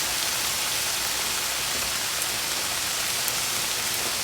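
Food sautés in a pan for a quinoa, rice and chicken bowl, giving off a steady, even sizzle like light rain with no voices over it.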